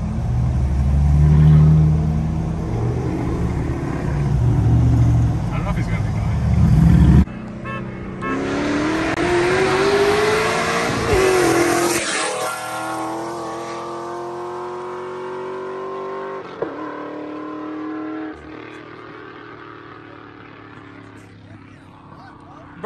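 A Ford Mustang accelerates hard with loud revving, its engine note climbing and falling through gear changes before fading into the distance, with people talking over it.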